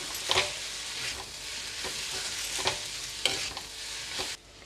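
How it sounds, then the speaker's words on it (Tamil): Onion-style masala sautéed with chili powder, turmeric and salt, a soft steady sizzle broken by several scraping stirs of a spoon in the pan, fairly quiet and without speech. "இப்போ இதை நல்லா வதக்கி கொடுத்துக்கலாம்"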